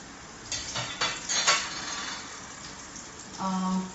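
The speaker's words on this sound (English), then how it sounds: "Now I'm going to just flip it and let it cook for another" Watermelon dosa flipped in a pan on the stove, a few metallic clinks and scrapes of a spatula against the pan followed by soft sizzling, close and moderately loud.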